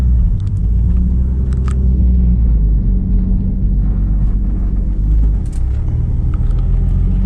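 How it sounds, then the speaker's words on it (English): A street-tuned turbocharged car runs on E fuel under driving load, giving a loud, steady low engine rumble throughout, with brief whooshing turbo spool bursts rising above it near the start and again toward the end. "Listen to the turbo, you can hear it so much more, watch."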